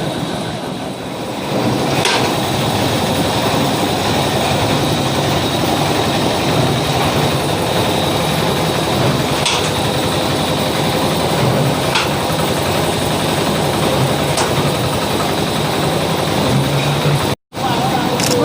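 A Thai straw baler with a top-compression design presses rice straw into bales, giving a loud, continuous mechanical rumble and rattle with periodic clanks, and someone speaks over it.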